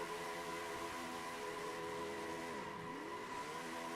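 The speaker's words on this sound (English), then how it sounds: "Alexander Gonzalez Green is going to do the dual burnouts with him." Race cars in a simulated Chevrolet Performance 400 finale at Homestead do dual burnouts, a steady roar of engines with tires squealing and wavering pitch, distant and without talk.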